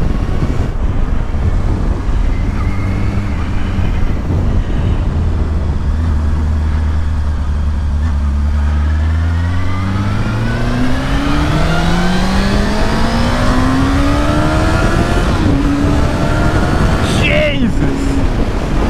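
A Honda Hornet 600 motorcycle accelerates hard, its engine note climbing steeply in pitch through the gears with heavy wind rush, loud and close from the rider's position.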